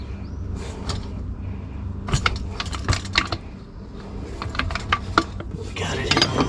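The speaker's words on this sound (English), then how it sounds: "Now I'm just beating up the gas strut." Metal tool striking a gas strut on a GMC/Chevy truck during a load-adjusting shock install, sharp irregular clanks and taps in bursts, close and loud over a low background hum.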